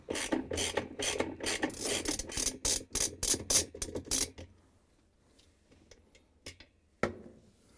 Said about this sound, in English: using the 7/16" socket wrench, I'm going to remove this bolt in the middle that holds the wash plate